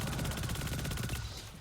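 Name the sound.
exotic weapon gunfire in video game Destiny 2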